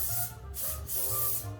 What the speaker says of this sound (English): So really quick with the spray, makes it really easy